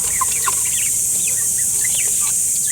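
Young Silkie and Brahma chickens, about two months old, cluck and chirp in short soft calls scattered over a steady background hiss, nearby and without talk.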